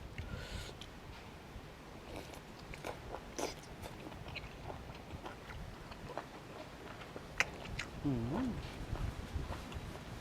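Crunchy spicy squid from a Thai seafood dish is chewed close up, with repeated soft crunching bites against a low background murmur and some voice-like sounds nearby.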